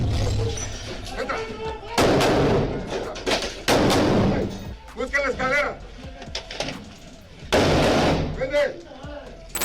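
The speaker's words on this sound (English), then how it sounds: "Making their way into the building after firing several shots and detonating grenades." Gunfire and grenade blasts during an armed assault on a building in Mexico's drug war, heard as several loud broadband bursts with sharp onsets, separated by gaps, under an ongoing narrating voice.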